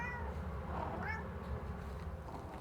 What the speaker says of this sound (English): I love when cats make that noise,